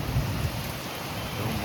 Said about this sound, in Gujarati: સવારમાં સુરતમાં વરસાદ આવી ગયો છે જોરદાર